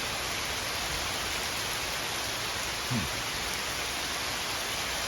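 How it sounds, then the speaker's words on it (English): Steady, even rain hiss fills a video game scene, soft and continuous with no other sounds standing out. "It's raining."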